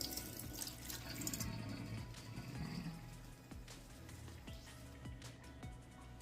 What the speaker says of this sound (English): I'm gonna drain the salty water off